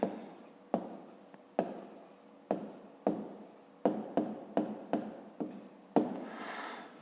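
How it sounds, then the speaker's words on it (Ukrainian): Pen writing out the answer to a fifth-grade math problem, a series of sharp, close strokes and taps, roughly a dozen in an uneven rhythm, with no talking. "Записуємо тоді відповідь. Пишемо 18 годин."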